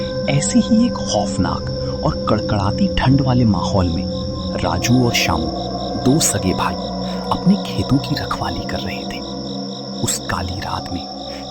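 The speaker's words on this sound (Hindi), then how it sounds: "झींगुरों की लगातार आने वाली डरावनी आवाज गूंज रही" Crickets chirp continuously in fields on a cold night, a steady layered insect drone under someone narrating a story.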